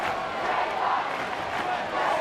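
A capacity crowd at the SCG roars during a tense AFL semi-final between Sydney and Geelong, with a steady, dense wall of crowd noise and no pauses.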